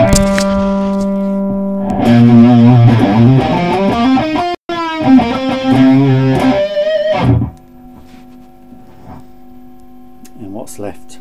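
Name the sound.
electric guitar through fuzz pedal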